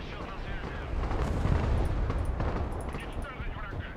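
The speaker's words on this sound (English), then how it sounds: "Yeah, immediate artillery response." Artillery fire in the real-time strategy video game Broken Arrow, heard as deep, rolling booms and rumbling blasts swelling through the middle, with someone talking over the barrage.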